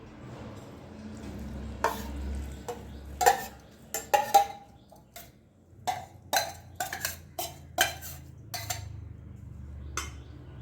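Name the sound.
oil poured into chilli pickle and mixed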